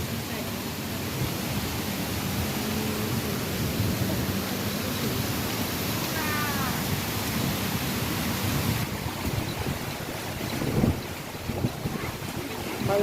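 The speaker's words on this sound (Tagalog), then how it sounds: "May bagyo na!" Stormy weather during a typhoon in the Philippines, heard from on a bus: a steady broadband roar of wind and rain fills the whole stretch, with a few louder thumps near the end and faint voices underneath.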